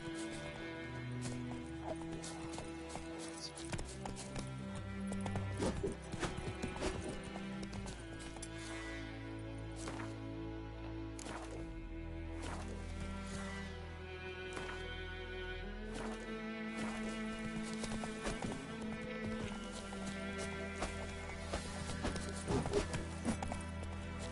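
Steady clip-clopping hooves of a galloping horse in the video game The Witcher 3 run beneath a dense musical score, with an occasional horse whinny rising over the rhythmic beat.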